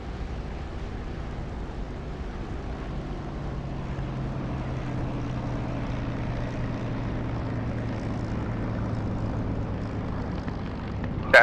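Steady, continuous droning of a P-51 Mustang propeller aircraft engine in a flight simulator game, a low constant hum throughout with no talk.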